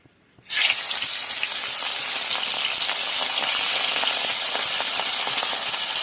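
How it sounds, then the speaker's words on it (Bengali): Fish go one at a time into hot cooking oil, setting off a loud, sudden sizzle that swells within half a second and holds as a steady, broad hiss of frying close by. "এবার আমি এক এক করে মাছগুলো দিয়ে দেবো।"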